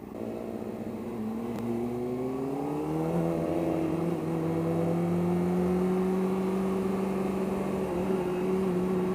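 A small Corsa hatchback engine revs up in a continuous droning tone that climbs in pitch over several seconds, fairly loud and uninterrupted, with no talking.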